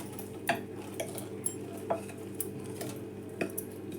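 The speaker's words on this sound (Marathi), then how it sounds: "आता मी गॅस बंद करते आणि ते सगळं साहित्य हे बघा ह्यात घालणार आहे" Ingredients tipped into melted jaggery in a pan with the gas turned off for winter laddoos, a spoon stirring with scattered clinks and scrapes of metal against the pan over a soft steady background.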